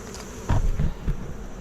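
Honey bees buzz at a hive during a mid-October inspection, with a few brief, close buzzing passes rising over a low background hum.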